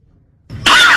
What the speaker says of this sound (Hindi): बहुत हो गया खांसना